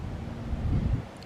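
Outdoor wind gusts buffeting the microphone as a steady low rumble, swelling briefly louder in the middle before easing off.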